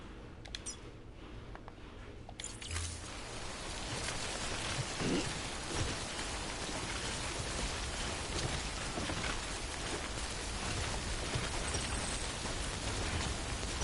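Timefall rain in the video game Death Stranding pours down in a dense, steady hiss of drops on surfaces, starting quieter and filling in after a couple of seconds, with no voices.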